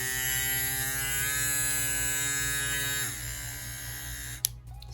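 A cheap Temu electric nail drill runs with a steady, high-pitched motorised whine, its tone dropping partway through as the speed is lowered, then ending with a brief click.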